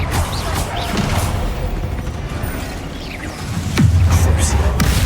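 A Confringo blasting spell fires and explodes in Hogwarts Legacy, with crashing, rumbling combat effects and a heavy burst that hits hard near the end, followed by a sustained low boom.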